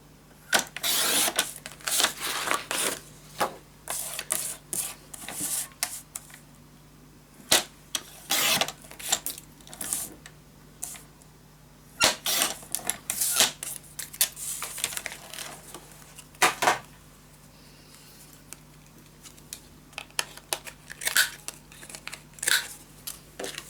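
Scissors snipping paper for a handmade scrapbook storage tower with mini albums, a long series of short crisp cuts in irregular bursts, close and moderately loud with no speech.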